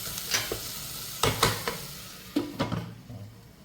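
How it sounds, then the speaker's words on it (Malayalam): Tomato, onion and masala are sautéed in a pan. A soft sizzle runs underneath while a spatula gives sharp, intermittent knocks and scrapes, close and fairly quiet, with no voices. "ഇനി ഇത് നന്നായിട്ട് ഒരു കുഴമ്പ് പരുവാകുന്ന വരെ നമുക്ക് വഴറ്റിയെടുക്കാം."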